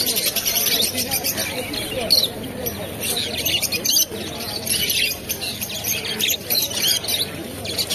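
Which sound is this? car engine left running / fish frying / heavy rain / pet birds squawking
pet birds squawking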